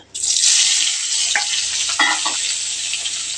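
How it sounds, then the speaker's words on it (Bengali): Eggplant pieces hitting hot oil and frying lightly in a pan, a sudden loud hiss that settles into a steady close sizzle with a few crackles. "আর আমি যে বেগুনটা কেটে রেখেছিলাম হালকা করে ভেজে নেব"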